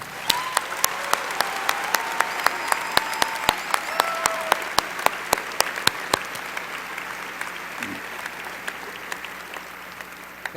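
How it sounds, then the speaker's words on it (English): Audience applause for the deans at a University of Maryland spring commencement, a steady wash of clapping over the full ten seconds with sharper individual claps standing out near the front, and faint voices underneath. "So please join me in a round of applause for all of them."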